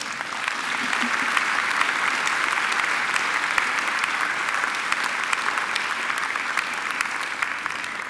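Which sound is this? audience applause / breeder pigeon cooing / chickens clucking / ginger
audience applause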